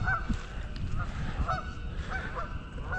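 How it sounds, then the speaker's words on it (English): A few geese honk repeatedly at a pond edge, short nasal calls spaced about half a second apart, moderately distant over steady outdoor background noise and light wind. "Got four geese right there"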